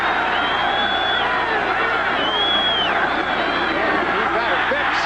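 A capacity stadium crowd of 64,000 chants at a 1980 Bears versus Buccaneers football game, a loud continuous roar of massed voices with a commentator talking over it.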